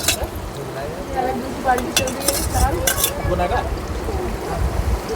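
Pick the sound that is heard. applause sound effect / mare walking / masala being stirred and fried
masala being stirred and fried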